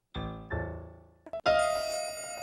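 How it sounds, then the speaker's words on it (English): A doorbell chimes in a one-act opera excerpt: two sustained ringing tones with rich overtones, then a brief pause and a third, brighter ring over a held musical note, heard clearly with no talking. "The bell rings again instantly"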